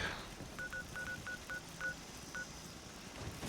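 In Fallout 76, a phone's touch-tone keypad beeps about ten times in quick, slightly irregular succession, faint clear tones over a low, steady background hum.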